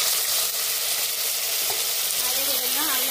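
Onion and green chili paste fries in hot oil in a kadai, giving a loud, close, unbroken sizzle with faint clinks of stirring.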